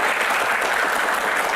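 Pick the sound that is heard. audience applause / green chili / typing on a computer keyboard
audience applause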